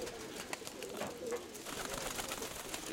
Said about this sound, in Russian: Есть несколько голубей вообще высоко.